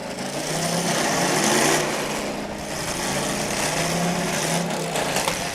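A race car engine at a track roars loud and steady, its revs rising and falling as the car rocks between forward and reverse, with no talk.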